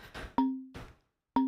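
A Galen Tipton one-shot sample: a bright, bell-like plucked tone with a sustained ring, played twice with a short gap between, preceded by a soft noisy swell, alone and fairly close.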